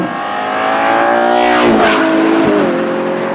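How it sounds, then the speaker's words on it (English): Revving V12 engine and exhaust of a Ferrari Purosangue fitted with a Novitec Esteso widebody kit and a small exhaust setup, loud and close, pitch climbing then dropping, with a brief lull and another blip near the end. "But the V12 is still insane. It sounds so good, even with the small exhaust setup."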